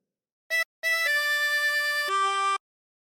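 Harmonica playing phrase 3 of Roll the Old Chariot: a short blown note, a brief pause, then a run of sustained reedy notes ending on a lower held tone, clear and close with nothing else heard.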